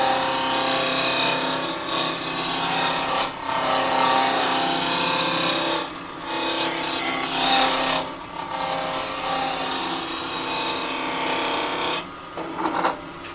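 Ash spindle being roughed on a wood lathe with a spindle roughing gouge, a steady rasping, scraping cut over a constant motor hum, broken by several brief pauses where the tool lifts away.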